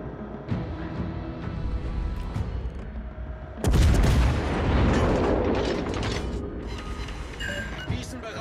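Naval gunfire in the World of Warships Legends video game: quieter background firing gives way to a loud boom partway through, followed by a long rumbling roar that slowly fades, with spoken voice lines heard throughout.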